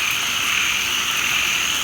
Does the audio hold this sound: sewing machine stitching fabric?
no